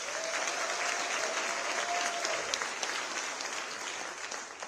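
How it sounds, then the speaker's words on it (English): Sustained applause from a university audience at Alabama State for Mr. Roland, steady dense clapping that holds at an even level for several seconds before easing slightly at the end. "Mr. Roland another round of applause"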